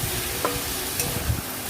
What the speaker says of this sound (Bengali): এরপরে দিয়ে দিলাম মশলার পেস্টটা। ভালো করে কষিয়ে নিচ্ছি।